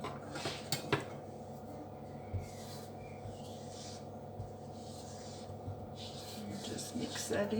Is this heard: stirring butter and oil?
yes